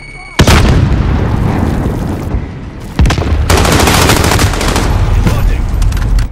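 A frag grenade explodes in the military shooter Call of Duty Modern Warfare amid multiplayer combat: loud, close booms around half a second and three seconds in, wrapped in sustained rapid gunfire and rumbling battle noise.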